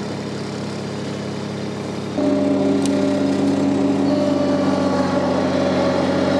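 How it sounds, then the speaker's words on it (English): A Ventrac 4520 mower runs with a steady engine drone, then revs up about two seconds in to a louder, higher, constant roar close to the microphone. "As we've got the mower on, let's do some mowing."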